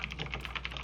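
Rapid typing on a computer keyboard, a quick close run of light key clicks in an even rhythm over under a second.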